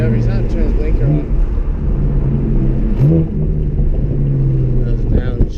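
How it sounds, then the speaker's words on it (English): A car engine drops through downshifts while driving on the road, with revs rising and falling in loud, close blips over a constant rumbling drone. "Those downshifts sound so good."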